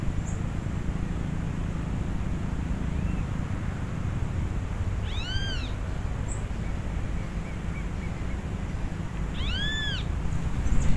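Marmosets in dry-season Brazil give two short clusters of high, arching whistled calls a few seconds apart, faint to moderate over a constant rushing outdoor background.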